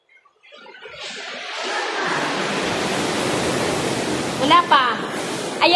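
Sea waves at Thunder Cave on Cape D'Aguilar surge in with a broad, roaring wash that builds and holds, while people's voices talk briefly over the rush near the end.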